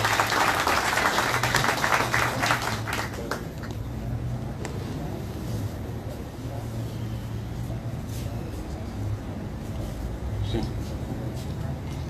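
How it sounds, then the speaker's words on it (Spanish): Applause at a political swearing-in event in Acapulco: a burst of crowd clapping that fades after a few seconds into a steady room hum with scattered sounds. "Un aplauso por favor."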